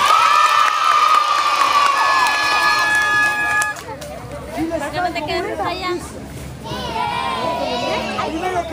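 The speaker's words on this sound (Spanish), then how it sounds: "Ya están aplaudiendo." School children in a crowd at a school shout and cheer loudly, their excited voices overlapping and rising again after a brief dip, with children's speech mixed in.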